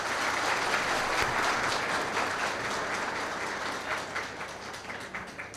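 An audience at a live program claps together in sustained, dense applause that stays steady and slowly fades toward the end, with no speech over it.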